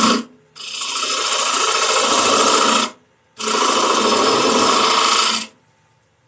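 Two sustained passes of a bowl gouge taking light cuts on a spinning wood lathe, a steady close hissing scrape, each lasting a couple of seconds and separated by a brief pause.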